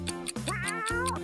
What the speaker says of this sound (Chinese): 嗨，可爱的小猫。